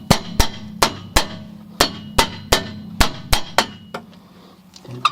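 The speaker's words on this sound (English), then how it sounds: "you should use a bigger hammer and then tap this" A hammer taps a 2003 Pontiac Sunfire rear brake drum about a dozen times in a fairly steady rhythm, each hit ringing sharply with a clanging tail, loud and close, then stops.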